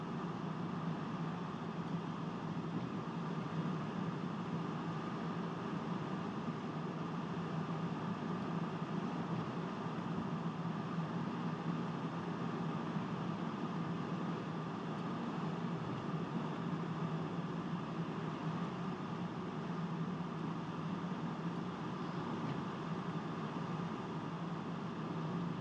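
A 2013 Honda Fit with a five-speed manual gearbox drives along an icy, snowy road, giving a constant low cabin hum and road rumble that stays even throughout.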